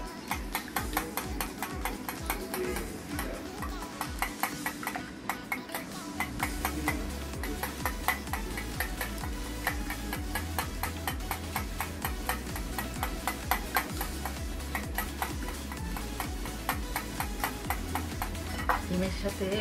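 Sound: beating eggs in a bowl for banana pudding

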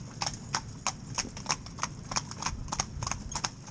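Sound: two horses clip-clopping while pulling a tandem carriage

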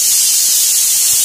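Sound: vegetables sizzling during tempering (tadka) on gas stove

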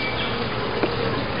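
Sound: honey bees buzzing at a hive

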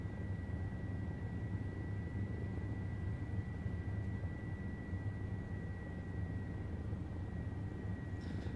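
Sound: OH-58D Kiowa helicopter flying in video game TacFlight

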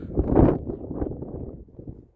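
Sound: wind

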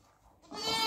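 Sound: sheep bleating

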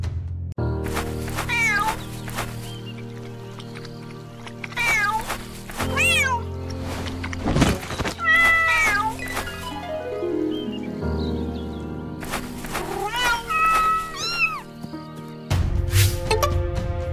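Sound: cat meowing

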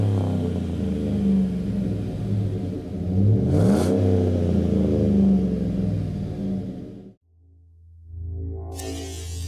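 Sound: car revving with new performance muffler

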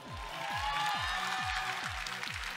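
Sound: audience applause for the pageant's final six candidates

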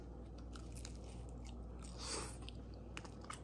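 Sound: biting into crispy low carb tortilla pizza

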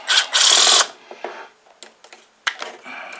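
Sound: loosening a stuck bolt on a Toro push mower with wrenches

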